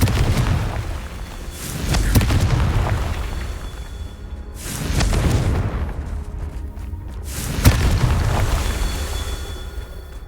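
Confringo fire spells blast in Hogwarts Legacy gameplay as a series of deep, heavy booms, each swelling into a rolling rumble, coming roughly every two to three seconds with no talk between them.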